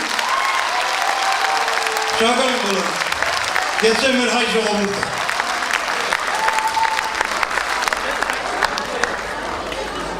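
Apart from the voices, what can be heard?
audience applause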